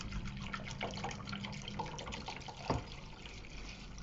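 Evapo-Rust rust-remover liquid poured into a container, a steady gurgling, splashing pour with a hollow trickle, close and moderately quiet, with one brief clunk partway through.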